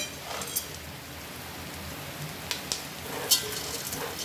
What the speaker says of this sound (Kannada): ಇದೇ ಹಂತದಲ್ಲಿ ಒಂದು ಬೌಲಷ್ಟು ಹುರ್ಗಡ್ಲೆ ಹಾಕೋತಾ ಇದ್ದೀನಿ. ಹುರ್ಗಡ್ಲೆನೂ ಫ್ರೈ ಮಾಡಬೇಕು.